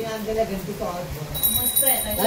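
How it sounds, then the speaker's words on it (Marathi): A small prayer bell rings with a bright, high metallic tone, sounding repeatedly near the end, over background voices and room noise. "ही देवाची घंटी. ही नाही शाळेची घंटा."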